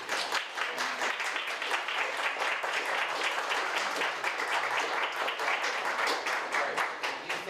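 A courtroom audience at a school mock trial claps for the witnesses, a moderate, even round of applause with distinct hand claps that continues steadily for several seconds with little talk.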